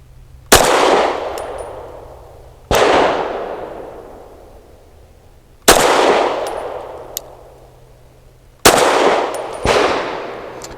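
Four sharp shots from a Springfield Armory Prodigy pistol at the range, each a loud crack with a long ringing decay, spaced a few seconds apart with faint metallic clinks between.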